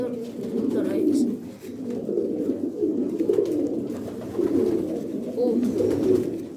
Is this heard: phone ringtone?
no